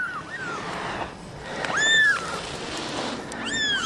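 Ten-day-old kittens give thin, high mews, two or three short cries close by, outdoors in cold weather over a faint background hiss.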